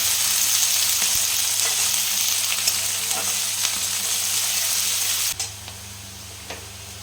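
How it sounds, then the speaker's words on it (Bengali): Chopped onion frying in hot oil: a steady, close sizzle with faint stirring clicks, easing slightly toward the end. "ভালোভাবে ভাজতে হবে লাল করে"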